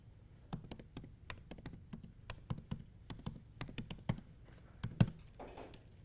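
Someone types on a computer keyboard in quick irregular bursts of soft clicks, faint and close, with no talk over it.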